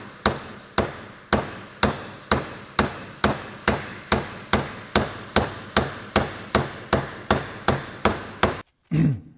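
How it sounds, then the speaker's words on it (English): A CFMOTO CForce wheel bearing is driven in with a socket under steady hammer blows, about eighteen evenly spaced sharp metallic strikes, close and loud, ending with a short rustle. "so you just use a socket to hammer it further down"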